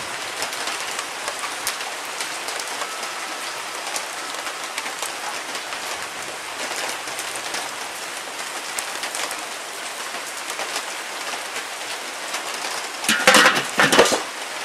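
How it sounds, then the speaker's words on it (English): Steady rain pours outside during a backyard barbecue, a dense continuous hiss of drops on surfaces with a brief louder clatter near the end. "It's that rain, man."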